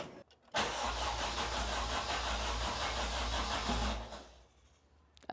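An Acura RSX engine cranks over for about three and a half seconds, a loud, even churning whir of the starter that winds down without catching, and no one speaks.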